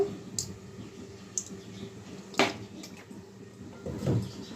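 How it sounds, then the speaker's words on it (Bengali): A metal kadai (wok) is set down on a home kitchen stove while hilsa fish curry with broccoli is being made. A single sharp clank stands out among soft clicks and quiet kitchen clatter. "তো কড়াইটা বসিয়ে দিলাম, এখন মাছের ঝোলটা বসিয়ে দেব।"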